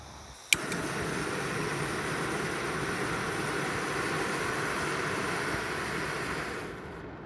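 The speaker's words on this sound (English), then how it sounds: "All you need to do is turn this little valve anti-clockwise and press the little piezo igniter on the side here." Firemaple Polaris gas stove burner sparked by its piezo igniter: a single sharp click, then the burner catches into a steady, even roar of gas flame that holds close and alone until it cuts off at the end.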